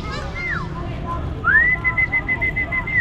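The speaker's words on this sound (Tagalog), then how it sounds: "Nandito yung kalapati kong naligaw." Wild pigeons calling outdoors in Dumaguete, with soft coos and a couple of clear rising whistle-like notes, fairly close over a low background murmur.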